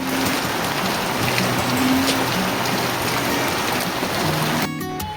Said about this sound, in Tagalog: Isang maulang umaga po mga kaibigan.